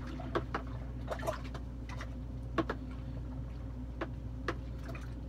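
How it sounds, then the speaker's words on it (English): A spoon stirs yeast into Beer Makers Pilsner wort, giving soft irregular taps and liquid swishes against the vessel over a steady low hum, fairly quiet. "So our yeast, you know what, we're going to stir that in real good."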